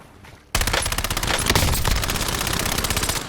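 Rapid automatic gunfire in the Warzone video game bursts in abruptly after a short quiet moment, then continues as a loud, close, sustained stream of shots to the end.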